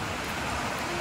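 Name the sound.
rain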